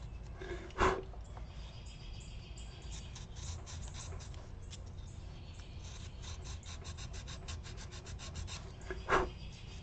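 Steady, quiet rasping of a sanding stick rubbing back and forth on wood, with a couple of brief knocks.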